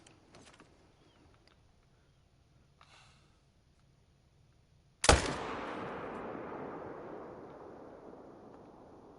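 A hunting rifle fires once in theHunter: Call of the Wild, a single loud, close blast that follows quiet outdoor ambience and trails off into a long rumbling echo.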